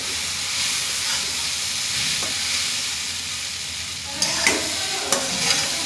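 Noodles frying with tomato sauce, a loud continuous hiss and sizzle with steam, followed near the end by a few clinks and scrapes as the pan is stirred.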